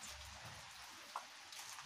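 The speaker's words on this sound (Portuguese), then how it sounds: "tá chovendo aqui nesse momento" Soft steady patter of rain falling, faint and diffuse, with an occasional single drip standing out.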